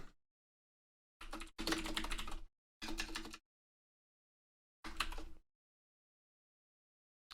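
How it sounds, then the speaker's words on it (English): Typing on a computer keyboard while entering text in a command-line tool: several short bursts of rapid clicking keystrokes, close and clear, separated by silent pauses. "I hit the I key to insert, so I can start typing in here."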